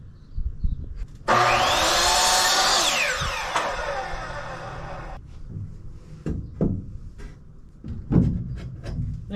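A wooden piece trimmed to fit a wall in a DIY box truck camper conversion, a loud close power saw whine lasting about four seconds, followed by scattered knocks and handling clatter of the workpiece.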